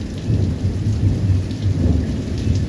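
Heavy rain pours steadily outdoors on a farm while thunder rumbles low and continuous underneath, loud and close throughout.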